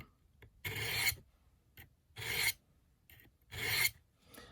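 Knife blade drawn across the belt of a Work Sharp Ken Onion benchtop sharpener, three separate rasping passes of about half a second each with short quiet gaps between, close and clear with no talking.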